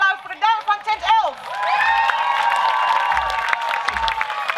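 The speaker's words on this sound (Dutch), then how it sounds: "Mag ik nog één keer een hartelijk applaus voor de dame van tent 11?" An audience at a summer camp playback show cheers and claps for the winning act, with shrill shouts and whoops rising into a sustained, loud, whistling roar of cheering that carries on to the end.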